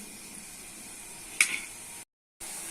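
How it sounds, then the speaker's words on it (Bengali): Chicken meat with spices fries steadily in a pan, a soft continuous sizzle with a brief louder spatter near the middle, then a short gap of silence before the sizzle returns. "মশলা হয়ে গেছে লুচি তেজপাতা মাংস একেবারে মশলার সঙ্গে কষে দিতে হবে"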